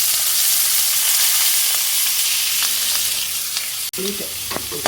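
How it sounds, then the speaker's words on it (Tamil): Onion and chillies hit spluttering mustard seeds in hot oil for bitter gourd poriyal, a loud dense hiss that briefly cuts out and then returns with sharp crackles and a scrape as the pan is stirred. "கடுகு பொரிஞ்சிட்டுது வெங்காய மிளகாய் போட்டலாம்"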